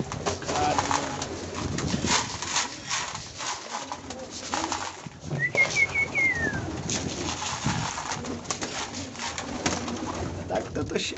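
Pigeons coo repeatedly in a loft on a frosty winter day, soft rolling calls close by, with a brief rising bird call in the middle and a person talking at times.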